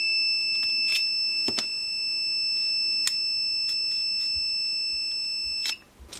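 Hakko FX-951 soldering iron station beeping, a steady high-pitched electronic tone with repeated short clicks and taps across it, close and clear with no talk.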